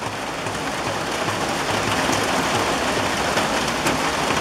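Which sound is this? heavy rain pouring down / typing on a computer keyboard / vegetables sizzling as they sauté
heavy rain pouring down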